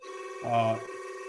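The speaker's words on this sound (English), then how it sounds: "that's the same fellow trying to reach me on my house phone." A house phone rings once, a short electronic ring over a steady tonal hum, then fades.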